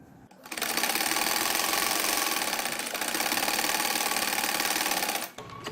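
A sewing machine runs one continuous, loud, even stretch of about five seconds, stitching a double row of stitches near the edge of a salwar hem. It starts and stops abruptly, with no talking.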